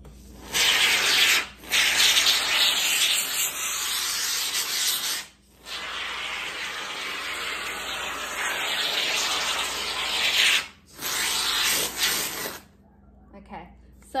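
An aerosol spray can hisses in several long bursts of steady, close, loud spraying, separated by brief pauses, with a short quieter stretch near the end.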